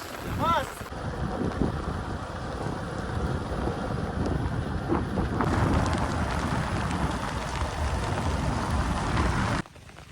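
Rain falls continuously with a broad rushing hiss and low wind-like rumble, a voice heard briefly at the start, the sound cutting off near the end.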